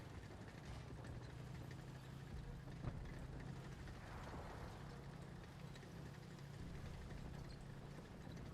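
A tank engine in the World War II shooter game Enlisted, set in a D-Day battle, rumbles at a steady low idle-like drone throughout, fairly close, with no clear breaks.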